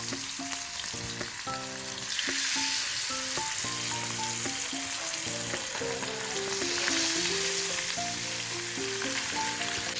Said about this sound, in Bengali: সেই মাছগুলিকে ফ্রাইং প্যানের মধ্যে খুব সাবধানে এইভাবে ছেড়ে দিতে হবে